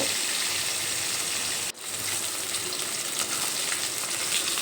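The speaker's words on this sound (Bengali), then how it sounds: "দেখো এখানে মাছের এক সাইড ভাজা হয়ে গেছে" Rohu fish pieces sizzle in hot oil, a continuous close frying hiss that cuts out for an instant partway through, then resumes just as strongly.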